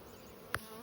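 Honey bees buzz softly during a varroa mite wash, a faint continuous drone with one brief louder tap partway through.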